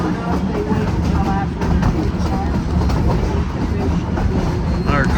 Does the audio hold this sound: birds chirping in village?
no